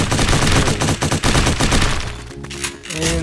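Rapid revolver shots in the Fortnite video game, fired in a fast spam of shooting and reloading, loud and dense with overlapping gunfire bursts that thin out into brief reload clicks and ringing tails near the end.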